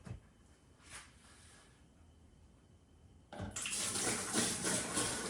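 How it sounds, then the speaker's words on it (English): Hoppy one-gallon beer wort, Northern Brewer's Zombie Dirt recipe, suddenly gushing from an opened spigot into a vessel, a steady splashing pour starting partway through after quiet handling noises. "We want to transfer it, just make sure your spigot is turned off."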